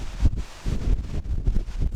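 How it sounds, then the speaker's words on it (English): Gusty wind buffeting the microphone in low rumbling surges, with a faint rustle in between, on the Mykonos waterfront with wind blowing the tops off the waves. "But look how windy it is."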